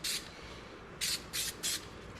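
Short hissing bursts of Super 77 spray adhesive from an aerosol can, four quick sprays with brief pauses, close and fairly quiet over faint room noise.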